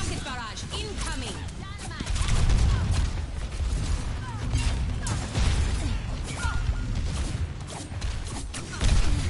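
Rocket barrage firing in the Overwatch 2 video game: a dense, loud stream of rapid launches and crashing booms with whooshes, continuous across the whole stretch, with a voice talking over the game action.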